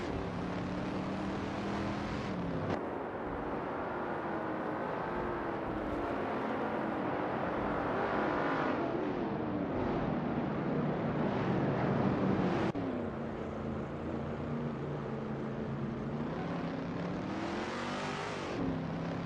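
A 1966 Shelby GT50Y race car's V8 engine in a racing video game roars steadily throughout, its pitch climbing and dropping with gear changes and revving, as other cars compete around it with no talking.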